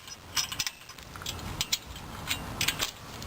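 Metal nut started on a carriage bolt with washers during hitch trike rack assembly, a scatter of small close metallic clinks and ticks that come in irregular bursts.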